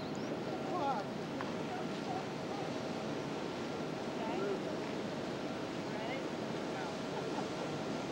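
Pacific Ocean surf rolls in a steady, distant wash with wind buffeting the microphone, and faint voices and a few bird calls sound in the background.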